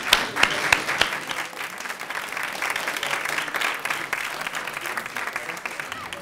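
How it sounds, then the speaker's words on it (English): An audience at a student government executive candidate forum breaks into a round of applause, lively clapping with a few sharp individual claps standing out at first, continuing steadily throughout at close range. "give them a round of applause"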